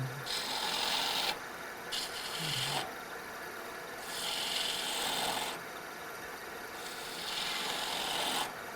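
A woodturning gouge cuts a cove into a piece spinning on a lathe, giving a raspy, scraping shear in three sustained passes separated by short pauses, close and steady, with no talk.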